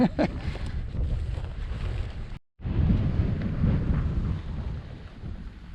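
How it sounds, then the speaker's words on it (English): Strong wind buffets the microphone on a scorching desert hike near Scipio, a loud, steady low roar with a brief dropout midway before the gusting resumes, with no talking. "The wind blowing's been good. It's not good for audio"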